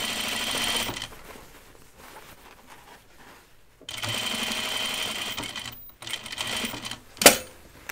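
A sewing machine backstitches a seam on a Portside Dopp Kit, running in close, steady bursts of stitching broken by short pauses, ending with a sharp click.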